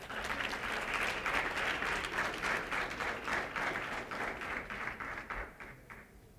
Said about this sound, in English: let's give a round of applause to our presenters